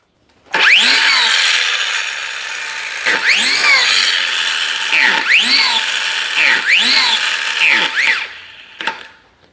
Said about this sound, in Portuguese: E esmerilhadeira.